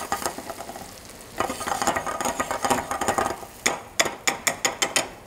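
Eggs for a Corsican-style herb omelette stirred in a pan on the stove, with repeated utensil scrapes and taps against the pan over a light sizzle, ending in a run of sharp, evenly spaced clinks, close and clear, no voices.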